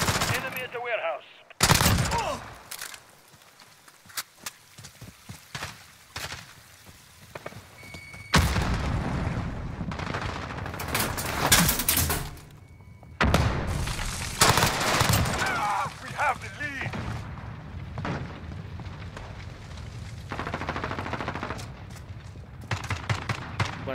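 Loud gunfire from a first-person shooter, with a newly tried gun, rattles in rapid automatic bursts and scattered single shots alongside booming explosions, dense and continuous, while someone talks intermittently over the in-game action.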